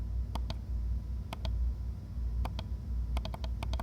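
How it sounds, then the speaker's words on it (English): Soft, muted clicks of a Logitech MX Master 3S mouse in pairs and quick clusters, quiet and close against a low background rumble. "this is what this mouse sounds like when I click it"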